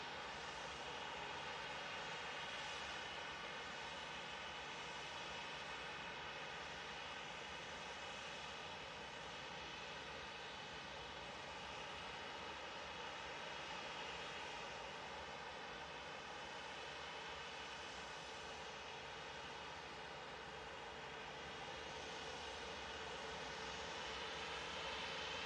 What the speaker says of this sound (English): And Ryanair is now taxiing on.